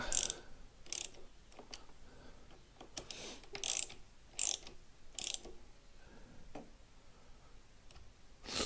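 Ratcheting clicks from bolts on Wunderlich handlebar risers being snugged on a BMW R1250GSA motorcycle, several short bursts of fast mechanical ticking spread across a quiet close-up workshop scene.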